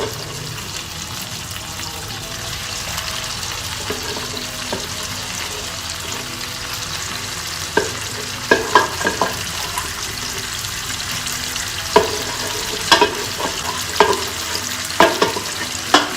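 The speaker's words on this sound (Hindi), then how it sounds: "अब हम इसको अच्छे से हिला के थोड़ा टाइम करेंगे फ्राई इसके अंदर" Pieces of mutton cooking in desi ghee in a karahi, a steady low sizzle of frying under scattered scraping clatters as the meat is stirred, growing busier toward the end.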